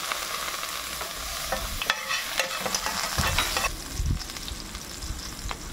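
Garlic sizzles in cooking oil with a steady hiss, broken by stirring scrapes and a few sharp clinks of a utensil against the pan, close up and without speech.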